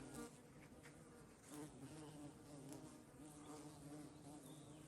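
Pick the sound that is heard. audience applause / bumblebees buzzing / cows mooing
bumblebees buzzing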